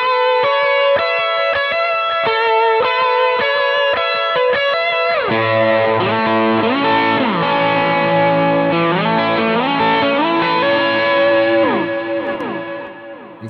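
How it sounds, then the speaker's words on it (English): Distorted electric guitar through an accented delay picks a repeated phrase, then sustained notes swell and smear into echoing repeats that pile up and trail off, loud and alone. "On a more accented delay, it's going to sound like this."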